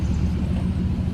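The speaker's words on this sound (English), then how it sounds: "Can you hear the sound of the Thar?" Mahindra Thar engine idling close by, a loud low rumbling throb with an even rhythm, heard alone for about a second.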